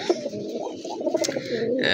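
A male Bagha pigeon coos close by in low, rolling phrases, with some faint background noise and no clear talk.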